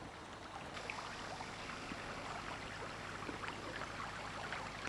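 Steady broadband rush of flowing water, a flooded river current about 1.5 km away heard as a constant wash with no voices.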